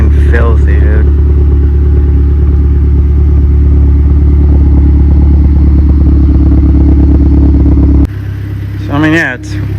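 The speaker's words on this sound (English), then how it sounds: "it's sounding fucking smooth now. No rough idle. Not wanting to shut off." A Mazdaspeed 3 engine idles smoothly and evenly after a misfire repair, a loud, close, steady low hum with no stumbling, with a person briefly talking at the start and again near the end.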